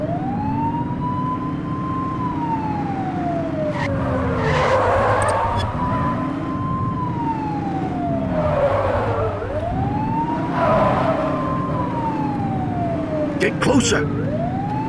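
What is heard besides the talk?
police car siren in video game The Precinct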